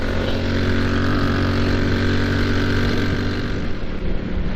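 A Moto Guzzi V7 motorcycle on the move, its engine a steady unbroken drone blended with wind rush at the microphone, loud and continuous throughout.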